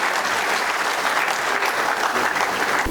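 A large audience at the inaugural session of a national CA student conference applauds a guest of honor, a dense, steady wash of clapping that holds loud and even for the whole stretch with no voices over it.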